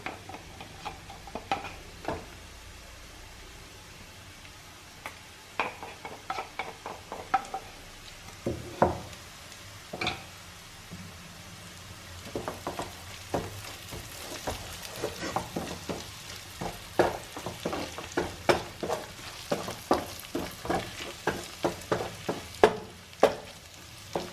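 Chili goes into a pan of garlic mushrooms frying in oil, giving a steady sizzle broken by frequent scraping and tapping of a spoon as it stirs, close and without talk.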